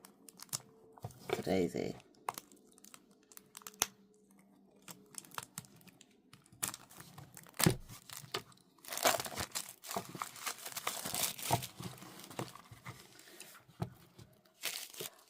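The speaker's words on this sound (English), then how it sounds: "Let's take off the plastic covering." Plastic wrap being torn and peeled off hexagon-shaped tarot card decks, giving close, scattered crinkles and rips in irregular bursts, with a person talking intermittently.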